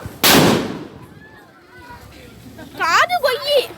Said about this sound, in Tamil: ஒரு நாட்டு வெடி வெடிக்கிறதுக்கு என்ன அலம்பாவும்